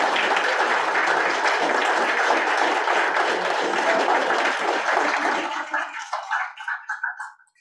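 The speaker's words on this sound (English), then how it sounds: "Big round of applause." An audience at a township council meeting gives sustained, loud applause that thins out into a few scattered last claps before going quiet.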